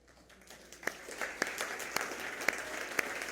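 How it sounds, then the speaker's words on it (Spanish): An audience claps at the close of a masterclass on instructional techniques, a soft, fairly distant patter of applause with a few sharper claps standing out. "Ya no los tuve que regañar para que aplaudieran."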